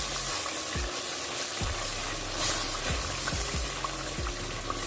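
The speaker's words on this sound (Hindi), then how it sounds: "हल्दी पाउडर है जो कि मैं 1/2 टेबल स्पून वो ऐड करूँगी और इसको अच्छे से मिक्स कर लेते हैं।" Turmeric powder, half a tablespoon, stirred and roasted in a pan for a mixed dal, giving a steady broadband sizzle with a few soft scraping strokes of the spoon, close and continuous with no voices.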